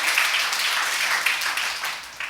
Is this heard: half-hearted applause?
yes